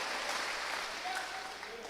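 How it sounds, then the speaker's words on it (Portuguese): Congregation applauding during a church service, a continuous wash of clapping from many hands, steady and fairly even, with a voice faintly audible beneath it. "Pode aplaudir ao Senhor."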